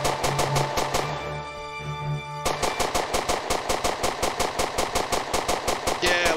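Rapid automatic gunfire in the sci-fi indie horror game Aquacreep, loud and steady with evenly spaced bursts for most of the clip, a brief lull with a humming tone near the start, and voices faintly underneath.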